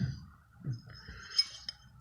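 A glass light lens on a 1960s Reverchon bumper car clinks a couple of times, short bright taps against quiet handling noise and low background rumble.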